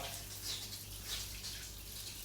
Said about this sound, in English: The shower pressure, I'll show you. It's not amazing, but you see that?